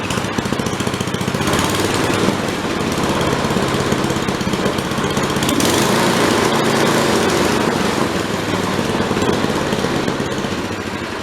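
An Ariens ST828 snowblower engine, started on its electric starter with the choke on, runs loud and close with a steady, buzzing small-engine clatter throughout.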